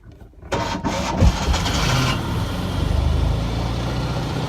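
A small engine cold-started on half choke catches after a brief crank and settles into a steady, loud idle close by, with no one talking over it.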